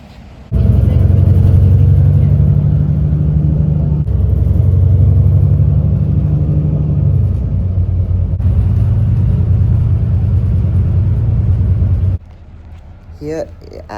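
The Hobart 551 bus heads toward Lena Valley via North Hobart with a steady, loud engine rumble and road noise from inside the cabin, rising and shifting as it moves and then dropping away near the end.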